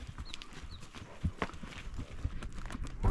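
Horses walking on asphalt produce soft, irregular hoof clops over a steady outdoor background, a few strikes standing out more clearly than the rest.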